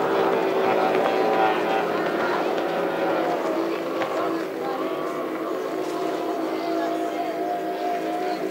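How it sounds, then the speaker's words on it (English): A racing powerboat engine at the Lake Charm boat races drones continuously at a steady pitch, mid-distance, under an excited race commentator. "the brand new boat, one of the superstars and legends of the Victorian Airport Club, wins the Archer Eade for 2022"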